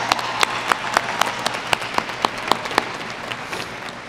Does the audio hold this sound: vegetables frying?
no